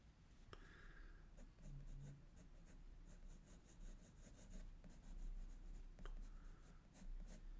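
A dark graphite pencil scratches and rubs across drawing paper in steady, continuous strokes while shading and blending a mouth drawing; quiet, close and uninterrupted, with no voices.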